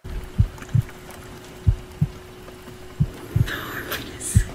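Heartbeat in a K-pop boyfriend ASMR recording, soft paired low thumps repeating at a steady rhythm over a constant hum, with faint voices near the end.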